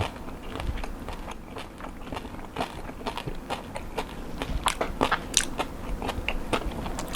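Crispy roast suckling pig skin being bitten and chewed close up, a rapid run of sharp crackling crunches that grow louder and denser toward the end, with no talking.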